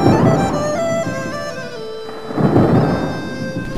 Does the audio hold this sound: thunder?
yes